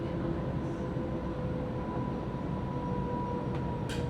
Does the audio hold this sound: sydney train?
yes